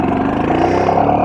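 A modded Royal Enfield Himalayan motorcycle with an aftermarket exhaust pipe runs with a loud, steady, close engine rumble.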